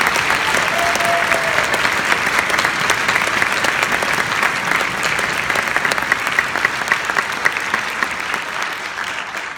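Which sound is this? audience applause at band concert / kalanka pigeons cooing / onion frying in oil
audience applause at band concert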